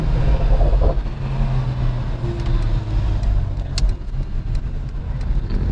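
Mercedes E53 AMG engine pulling hard through city streets, a loud steady low rumble heard from inside the car with a few sharp crackles near the end.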